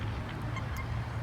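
Outdoors in nature, waterfowl call with a few nasal honking quacks over a dense, steady murmur of background noise, close and moderately loud across a brief moment.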